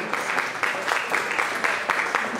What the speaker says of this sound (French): son trophée sous nos applaudissements bien nourris, s'il vous plaît